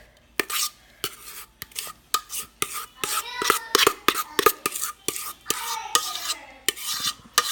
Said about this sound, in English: And so I just scoop it up.